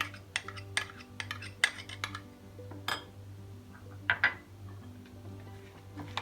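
Spoon clinks against a bowl while walnuts and grated garlic are stirred into a yogurt and celery salad, with a few sharp scattered taps over a faint steady hum and no talk.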